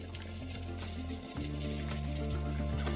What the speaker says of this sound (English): the caramel, if you have a look at it now while it's sizzling away there